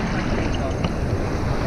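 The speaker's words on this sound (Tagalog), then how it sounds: "Taas oh. Taas ang alon." High ocean waves wash and roar continuously at Abagatanen Beach, a loud, close, broadband surge with wind buffeting the microphone.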